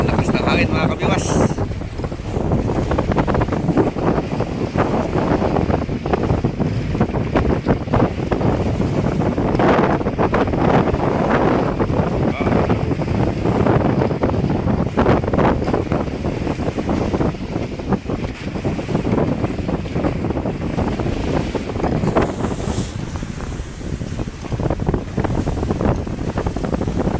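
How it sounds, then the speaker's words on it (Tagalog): Strong wind roars and buffets the microphone aboard a small bangka at sea, with water noise underneath and a constant, loud rush that never lets up. "Ang lakas ng hangin mga kabiwas."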